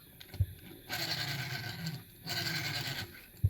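A Hot Wheels Land Rover Series II toy car with wobbly wheels rolls across a surface in two close, rattling runs of plastic-wheel whirring, with a small knock at the start and end.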